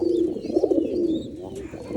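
Pigeons coo softly and continuously in a low, throaty murmur, close by, with faint rustling around them.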